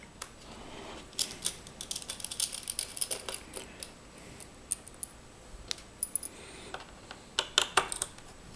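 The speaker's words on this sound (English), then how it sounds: "have a small Phillips screwdriver. You don't want it too big so you don't strip your screws out" Small Phillips screwdriver backing out screws from a hard drive, heard as a series of sharp, light metallic clicks and ticks in irregular bursts, close and moderately quiet, with no talking.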